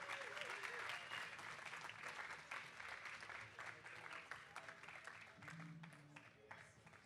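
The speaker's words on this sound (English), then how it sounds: "So if you want to give him a round of applause" A crowd claps warmly for a singer-songwriter at a Hot Press Speakeasy gathering. The dense applause gradually thins and fades, and a brief voice and a few notes come through near the close.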